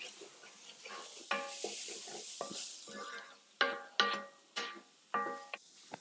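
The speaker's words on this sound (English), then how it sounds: "And now just give this all a really thorough mix." Chopped garlic, minced ginger and spices mixed in a pot for a Moroccan chicken and chickpea stew, gentle sizzling under several sharp, separate scraping strokes of a spoon against the pot, close and fairly quiet.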